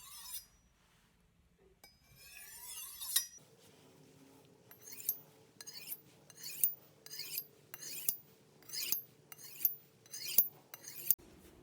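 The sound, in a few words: knife being sharpened on a sharpening steel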